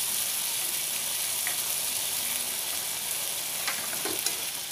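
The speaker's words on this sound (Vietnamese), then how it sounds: "các bạn xào khoảng chừng vài ba phút ha" Pickled mustard greens stir-fried in a pan, a steady loud sizzle and hiss with occasional scraping stirs, continuous and close with no voices.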